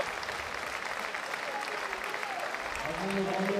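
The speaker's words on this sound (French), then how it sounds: "on les applaudit là actuellement" Spectators applauding the staff at an under-11 youth football semi-final between RSC Anderlecht and OGC Nice, steady crowd clapping throughout with a commentator's voice rising over it near the end.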